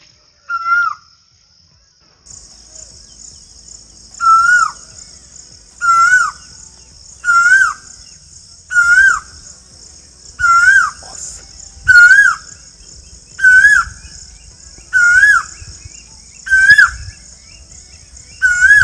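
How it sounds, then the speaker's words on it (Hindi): Asian koel calling repeatedly in an Indian village among mango trees, a loud rising two-note call repeated every couple of seconds over a steady insect drone. "आप ये आवाज़ सुन रहे होगे, कोयल की आवाज़।"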